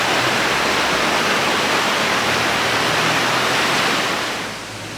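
Mountain river in Sharr Mountain National Park, Kosovo, rushing down toward the valley: a steady, loud broadband roar of fast water with no break, easing slightly in the final moment.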